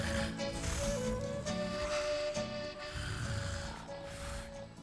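A cartoon giant child snoring in slow, drawn-out breaths over a steady tonal background, fairly quiet and continuous, with no talk.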